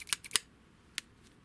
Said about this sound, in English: Electrician's scissors here.